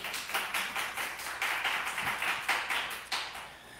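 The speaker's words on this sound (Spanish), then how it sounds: "no se corten, ¿pueden aplaudir?" Audience clapping at a talk at Casa América Cataluña, a sparse group of hands producing distinct, uneven claps in a lively rhythm, close and clear with no talk.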